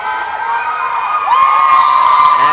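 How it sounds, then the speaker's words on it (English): A crowd at a high school volleyball match between Santa Paula and Carpinteria cheers and whoops loudly and steadily, swelling slightly partway through. "And Carpenter, you can hear the crowd."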